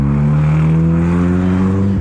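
Loud, raw exhaust note from a 1999 Honda Civic running an essentially straight pipe with no catalytic converter, intermediate resonator or muffler, held at a steady high rev for about two seconds, close by with no talk.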